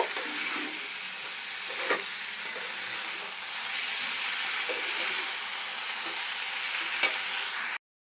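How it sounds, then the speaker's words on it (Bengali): Pre-fried potato and cauliflower pieces sauté in spiced oil in a pan for a home-cooked curry, a continuous close hiss and sizzle with a few soft stirring clinks and a brief sharp tap, no voices. "ভেজে রাখা আলু আর ফুলকপি দিয়ে দিচ্ছি ফুলকপি আর আলু দিয়ে একটু কষিয়ে নেব"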